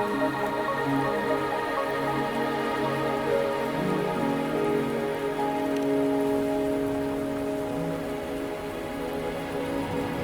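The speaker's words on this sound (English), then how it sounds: "Are you trapped here by the rain?" Steady rain falls in the video game Wuthering Waves, a constant, dense patter on surfaces with soft sustained music beneath it.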